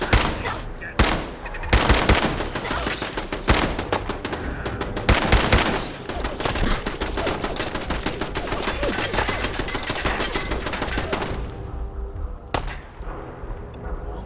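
Rapid gunfire rattles through a Fallout 4 firefight: loud, close bursts of automatic shots and single cracks crowd together almost without pause before easing off near the end.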